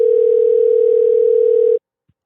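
Phone line tone on a call, one steady loud electronic beep holding for almost two seconds and then cutting off into silence, with a faint click after it.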